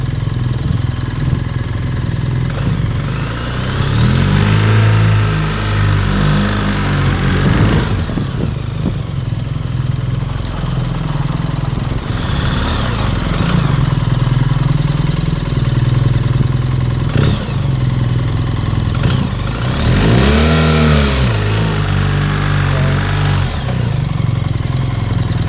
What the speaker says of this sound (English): So I was revving it a little bit there